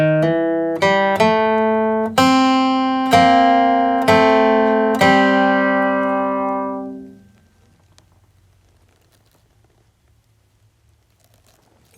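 Bluegrass-style guitar solo in C, the opening two measures: a quick run of picked single notes and a few strummed hits, close and clear, ending in a ringing fade and then silence.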